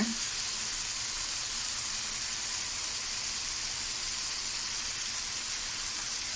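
Ginger garlic paste sizzling in a frying pan while cooking mushroom gravy, a loud, steady, hissing crackle that runs unbroken throughout with no voices.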